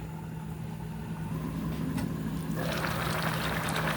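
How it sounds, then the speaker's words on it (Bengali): Fish curry with eggplant and cauliflower boiling in a covered pot, a steady close bubbling hiss that grows louder and brighter near the end, no talking. "তরকারিটা বলক চলে আসছে"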